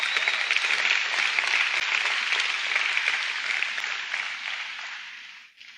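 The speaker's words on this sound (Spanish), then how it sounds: "Si así es, denme un aplauso" A church congregation applauds in a dense, steady wash of clapping that holds evenly before fading out near the end, with no talk over it.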